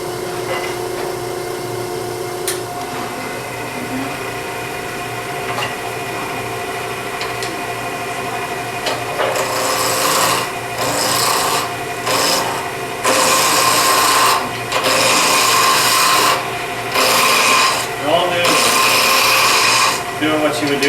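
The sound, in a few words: wood lathe turning a ring blank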